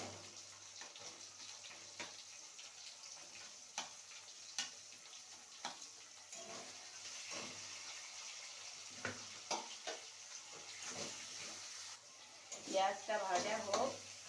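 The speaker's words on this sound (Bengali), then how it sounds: "পেঁয়াজটা ভাজা হোক" Onions sizzle in hot oil in a pan along with fish, a steady faint crackle with scattered taps and stirring clicks, while someone talks over the cooking.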